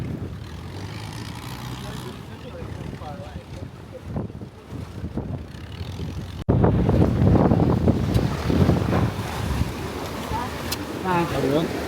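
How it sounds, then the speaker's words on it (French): Ocean waves wash onto an island shore in Koh Tao, Thailand, a rushing surf roar mixed with heavy wind buffeting the microphone, growing louder halfway through while people talk nearby. "Il y a tellement de vagues."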